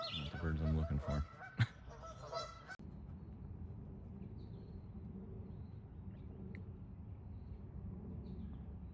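A flurry of loud goose honks and bird calls in the first few seconds, then quieter background with faint distant calls.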